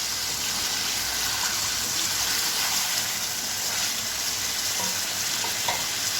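Chicken pieces being browned in a pan for nihari give a steady, dense sizzle with crackling pops, close and continuous throughout, with no talking.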